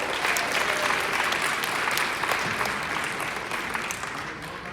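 A live business-seminar audience breaks into loud, sustained applause, a dense wash of clapping that slowly tapers off.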